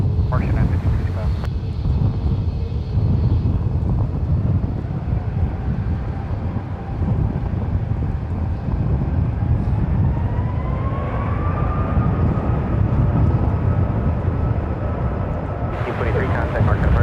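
A Spirit airliner takes off from runway 28 Left at San Francisco International, a loud, sustained roar and rumble with a slowly rising whine, buffeted by wind, with voices talking over it.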